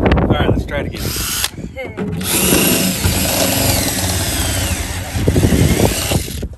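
Loud power drill whirring in bursts, stopping briefly then revving again for a long sustained run, close up, with some voices underneath.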